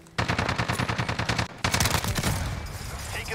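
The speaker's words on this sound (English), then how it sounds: "Taking fire over here." Rapid automatic gunfire from a Modern Warfare hardpoint match, likely an Uzi-style SMG, loud and close in two sustained bursts separated by a brief pause.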